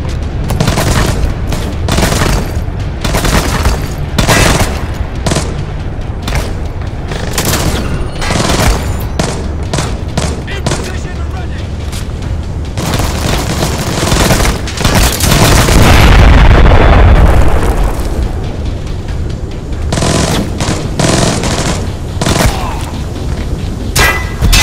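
Gunfire and explosions in Splinter Cell Blacklist's Abandoned Mill mission. Loud, dense bursts of rapid shots and booms run almost without a break, with a heavier rumbling blast near the middle.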